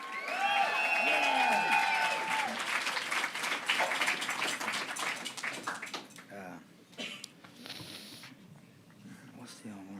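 An audience at a spoken word show breaks into applause and cheering, loud dense clapping with voices over it that fades out, leaving murmurs and talk.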